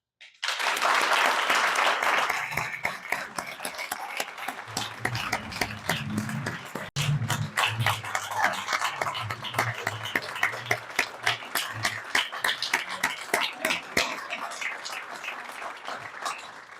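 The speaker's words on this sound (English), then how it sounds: "Please join me in congratulating Bryce for all of his contributions to our law firm with a round of applause." Crowd applause honours a retiring law firm colleague at a celebration, a long, full wash of many clapping hands that swells at first, then holds steady with a few cheers and scattered sharp claps before fading.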